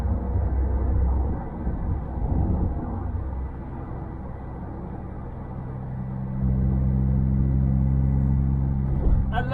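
A Smart Brabus Roadster climbs a hill in fifth gear, its engine droning in a steady low rumble with road noise that deepens and grows louder partway through, while someone talks over it.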